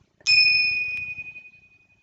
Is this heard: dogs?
no